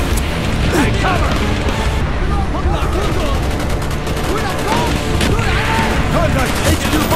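Relentless gunfire in a Khe Sanh battle video game, loud overlapping rifle and machine-gun bursts with crashes, continuous and dense while soldiers' voices shout over the shooting.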